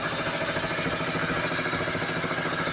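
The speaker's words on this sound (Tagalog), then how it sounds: "Isang makina yan, papatubig sa talong." An engine drives an irrigation water pump watering eggplants at a home garden, a steady close mechanical drone with a continuous rattling throb, running alone without talk.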